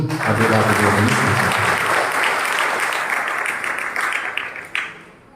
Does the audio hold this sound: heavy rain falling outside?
no